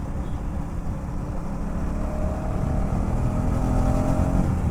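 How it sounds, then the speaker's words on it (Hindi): A motorcycle holds a steady cruise in third or fourth gear on an empty, straight road, its engine droning continuously and growing slightly louder, with wind noise and no talking. "ये थर्ड फोर्थ गियर में जो आवाज़ निकालती है ना बाइक"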